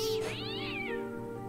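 A cat lets out one drawn-out, wavering meow in the Fran Bow video game, close and clear over a quiet backdrop.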